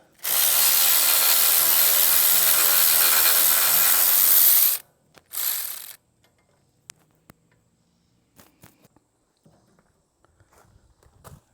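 A power tool drives home the last bolt on a tongue-mounted utility trailer tool box in one loud, sustained burst. A shorter burst follows, then scattered light clicks and knocks.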